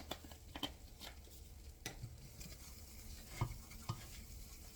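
Cumin and chili powder blooming in a hot soup pot for chicken tortilla soup, a quiet sizzle broken by a few spoon scrapes and taps against the pot.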